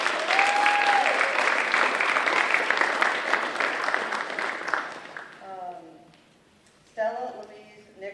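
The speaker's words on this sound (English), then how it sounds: "So Paisley, we'll clap for you, Paisley." Audience applause at a school Honor's Day ceremony for a scholarship awardee, steady dense clapping for about five seconds before fading, followed by a speaking voice.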